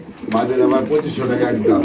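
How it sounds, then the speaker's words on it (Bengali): A male pigeon coos close by in repeated throaty, rolling calls, with a voice talking over it. "এটা হচ্ছে নর কবুতর"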